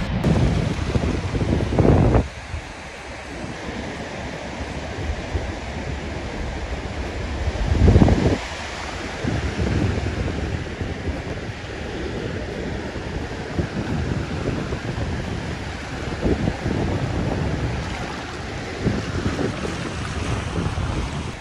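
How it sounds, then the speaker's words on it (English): Wind buffets the microphone on a beach at Bijilo, Gambia, with a steady wash of surf and waves underneath and a few louder gusts, and no voices. "Going to swim now at the beach, just ate."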